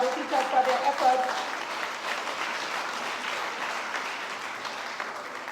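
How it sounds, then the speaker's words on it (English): An audience at a primary and infant school leaving exercise applauds the teachers, with a steady wash of clapping that slowly thins out. A voice speaks briefly at the start. "put your hands together and applaud the teachers for their efforts"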